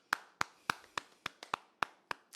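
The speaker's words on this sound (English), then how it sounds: "Can you give her a round of applause, please?" Applause for a new co-host on a podcast set, heard as single crisp hand claps in an even rhythm, about three per second, close and fairly quiet against a silent background.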